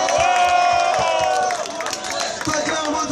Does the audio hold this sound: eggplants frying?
no